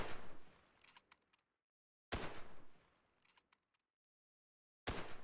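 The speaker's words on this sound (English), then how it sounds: "Who's firing a bolt action?" Bolt-action rifle shots ring out one at a time, three loud sharp cracks spaced a couple of seconds apart, each trailing off in a short echoing tail before silence, with no voices.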